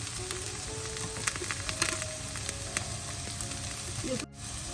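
Chopped carrots dropped into a hot pan of oil for rava upma, giving a steady close sizzle with a few sharper crackles and a brief dip near the end.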